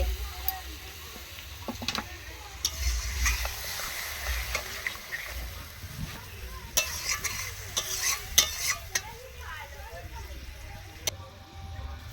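Chicken kosha masala stir-fried in a pan over an earthen stove, with a steady sizzle and frequent scraping strokes from the spoon over a low rumble throughout.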